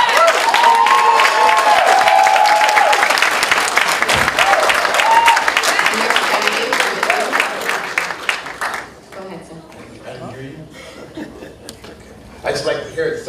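A debate audience applauding loudly after a candidate's speech, dense clapping with some chuckles and cheers that fades after several seconds into murmuring and talk, with a brief final burst of claps.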